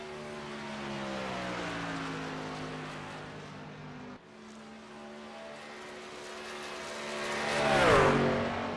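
A racing truck engine in the iRacing sim at Auto Club, held at high revs as a steady droning whine, dipping briefly midway and then swelling louder as another vehicle sweeps past near the end, with no talking.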